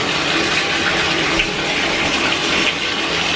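Water splashes and gushes steadily while a French bulldog puppy is rinsed with a cup during a bath, a continuous close wash of pouring and trickling with no talk.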